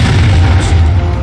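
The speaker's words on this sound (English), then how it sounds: "Keep up the pressure by firing your cannons at the enemy." Cannon fire in Napoleon: Total War during a siege battle at Toulon, a heavy, loud booming rumble with deep low-end that sustains across the short moment.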